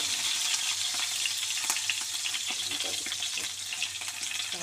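Leaves frying in a pan, a continuous close hiss and crackle of sizzling oil that holds steady throughout.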